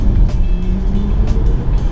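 A BMW i4 M50 electric car plays its synthetic drive sound, scored by Hans Zimmer, as a loud, steady low hum with a faint rising tone throughout.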